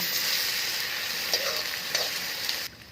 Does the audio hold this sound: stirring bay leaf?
yes